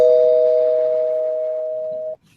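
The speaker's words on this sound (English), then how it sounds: "I'll ring the bell." A single bell-like chime rings out as a sound effect on a comic book podcast, a loud pure tone that rings and fades slowly for about two seconds before cutting off abruptly.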